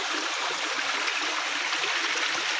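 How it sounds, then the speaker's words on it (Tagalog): A spring-fed mountain stream flows in a steady, full rush of water, close and continuous, with no voices over it. "So may batis kaming nadaanan dito"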